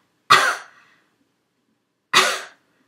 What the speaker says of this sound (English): How about when I cough?